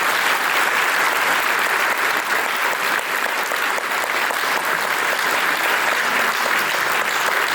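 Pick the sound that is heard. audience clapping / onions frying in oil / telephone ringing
audience clapping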